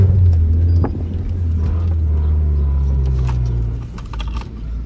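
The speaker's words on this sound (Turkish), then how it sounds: "Abi ben bir daha gaz alacağım." A Honda engine revs with a steady low rumble that swells and holds, then eases off, heard up close and fairly loud with no talking over it.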